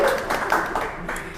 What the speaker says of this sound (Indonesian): Tepuk tangan dulu semuanya dong.